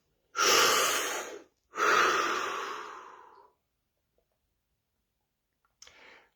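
Two long, deep breaths are drawn close to the microphone, each a loud, airy rush lasting over a second, with a quiet gap and a short breathy sound at the end.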